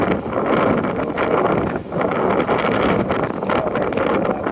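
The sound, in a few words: wind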